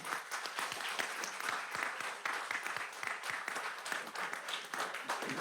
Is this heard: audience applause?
yes